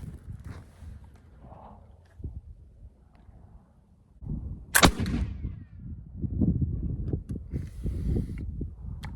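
Nearly 300-year-old musket fired with buck and ball paper cartridges outdoors on a range, one sharp loud report followed by rustling, movement and wind.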